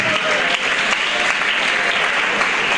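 A church congregation breaks into sustained applause for Jesus during a Pentecostal-style sermon, a dense, steady wash of many hands clapping at even loudness throughout, with no voice rising above it.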